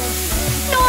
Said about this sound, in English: That sizzle is absolute perfection.